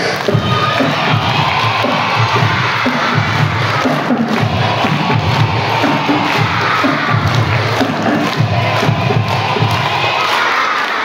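A large group of primary schoolchildren at a storytelling event clap and shout together, a loud continuous roar of young voices and cheering with clapping mixed in, sustained throughout.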